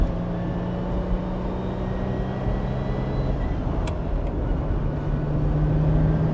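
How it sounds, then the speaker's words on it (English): A Ferrari Dino 246GT driving on a road, heard from inside as a steady low engine drone with road rumble, no speech over it. "So here we are, driving a Ferrari Dino."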